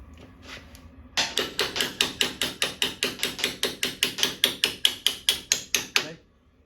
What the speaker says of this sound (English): I'll get a hammer.